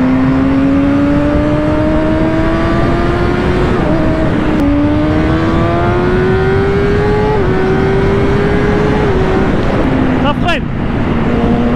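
A 2020 Kawasaki ZX6R engine revs loud and close, pitch climbing through several gear changes in rising sweeps with brief dips between, over steady wind roar.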